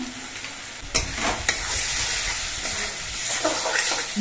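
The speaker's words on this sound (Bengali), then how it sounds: "গুলে নেওয়া মশলাটা দেওয়ার পর আরও কিছুক্ষণ কষিয়ে নিতে হবে" Masala paste for a rohu fish curry frying in a pan, a loud continuous sizzle broken by clattering spoon strokes as it is stirred.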